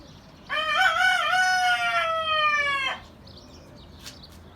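A rooster among a flock of pigeons crows one long, clear, close cock-a-doodle-doo lasting over two seconds, followed by faint bird noises.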